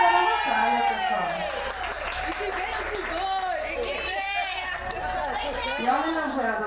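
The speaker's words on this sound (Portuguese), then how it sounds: "Aplaudiamos, chamamos então aplausos para a Natália, pessoal." Guests applaud for Natália at her birthday party in Ponte Rasa, São Paulo's east side, clapping steadily for several seconds beneath loud overlapping voices and chatter.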